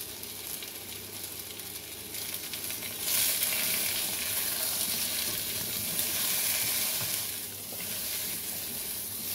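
Potatoes fry in a pan for chicken adobo, a loud, steady crackling sizzle that swells and eases, with occasional light stirring.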